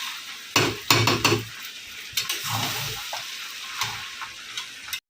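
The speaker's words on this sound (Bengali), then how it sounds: "এই ফ্রাইড রাইসের মশলা দিয়ে দিলাম, দিয়ে এখন এটাকে ভালো করে মেশাবো।" A spoon scrapes and clatters against a pan while fried rice with spices is stirred, giving sharp metallic knocks in uneven bursts over a soft background sizzle.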